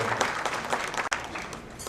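Hall audience applauding for students from Balochistan at a dinner hosted by Mian Shehbaz Sharif, dense sustained clapping from many hands with a momentary dip partway through.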